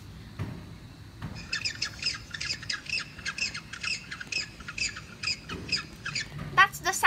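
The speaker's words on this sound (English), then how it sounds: "That's the sound of the penguin." Penguin call played from an animal app: a series of harsh, rapid squawking bursts repeated in a rhythmic chatter, faint and slightly distant, with a louder squawk at the end.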